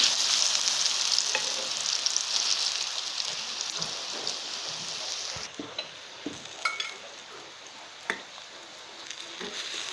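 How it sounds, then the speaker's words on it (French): Spicy plantain slices fry in a pan with a loud, steady sizzle that crackles and pops close by and eases off a little partway through, with occasional clinks of stirring. "nos bananes plantains qui sont en train d'être cuits"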